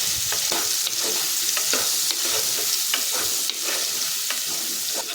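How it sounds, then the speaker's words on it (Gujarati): Raw mango curry with turmeric and salt is stirred in a hot pan, a steady close sizzle broken by repeated scraping strokes of the spoon. "બધું સરસ મિક્સ કરી લઈશું."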